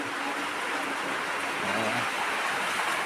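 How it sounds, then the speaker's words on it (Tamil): Heavy rain pours steadily outside a house entrance, a dense continuous hiss close by with a faint low rumble partway through and no talking. "நல்ல மழை அருமையான ஒரு மழை"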